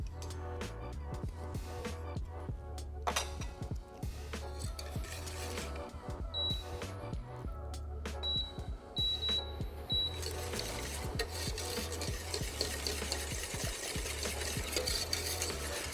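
Mango purée infused with lime zest is mixed with sugar and agar-agar for an entremets, a continuous stirring swish over a low steady hum, with a few faint short beeps partway through.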